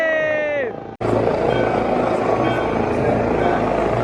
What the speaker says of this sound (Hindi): तो वही हेलीकॉप्टर के द्वारा पुष्प वर्षा की जा रही है लगातार।